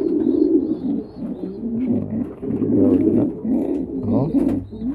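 Pigeons in a loft make low, continuous cooing close by while an eggshell-breaking nest holds newly hatched squabs; the soft throaty coos come back-to-back across the whole stretch, with no talk.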